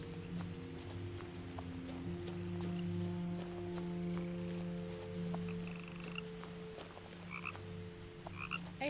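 Frogs croak repeatedly in the video game What Remains of Edith Finch, a steady chorus of calls with a low ambient hum beneath and no talking.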